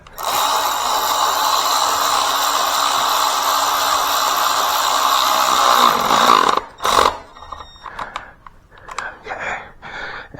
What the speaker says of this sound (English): Now we could do this with the power ratchet